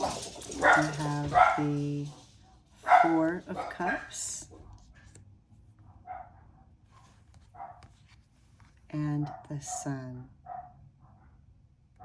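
A person speaks calmly while dogs bark and yip in short bursts in the background between phrases.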